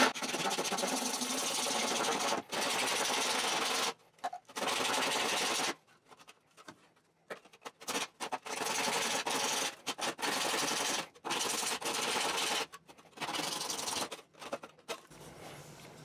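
A cheap hand saw cuts through plastic pipe in repeated rasping strokes, close and fairly quiet, with short gaps between bursts of sawing.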